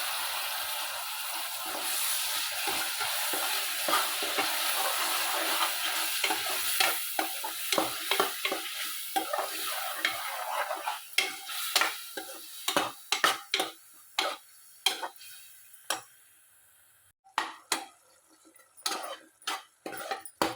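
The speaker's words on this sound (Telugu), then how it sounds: "ఇది పచ్చివాసన పోయేలాగా బాగా ఫ్రై చేసుకోవాలండి" Tomato and onion gravy fries in a pan for a chickpea masala curry, a steady close sizzle broken by rhythmic scraping stirs and spoon clicks that grow sparser toward the end, with no talking.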